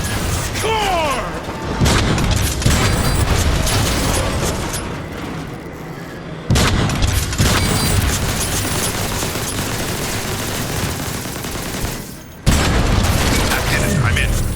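Power cells being blasted in Transformers War for Cybertron: heavy weapon fire, mechanical clanks and booms churn loudly in dense waves, broken by a few abrupt drops, with speech mixed in among the action.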